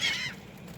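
A single seagull's harsh call sounds near and fairly loud at the start, then fades into quiet background noise.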